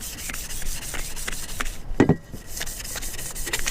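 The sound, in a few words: sanding a strut tower brace to scuff the surface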